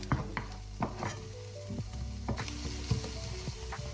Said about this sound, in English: make it all nice and creamy, and then just start stirring it